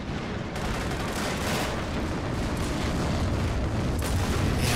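Tank cannon fire in a World War II video game set in Normandy: dense, loud booming blasts and rumbling explosions overlap continuously, with a sharp report near the start and more heavy thuds layered throughout.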